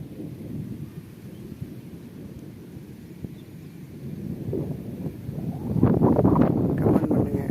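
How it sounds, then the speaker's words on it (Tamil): Strong cool wind blowing outdoors near a jasmine garden, a steady low roar buffeting the microphone that swells louder toward the end, with no voices. "நல்லா காற்றடிக்குது, சில்லுன்னு காற்றடிக்குது."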